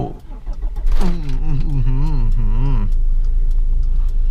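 A car starting with the handbrake released while left in gear: a starter crank and rumble rise into a loud wavering engine note that cuts back to a steady low idle rumble, close by.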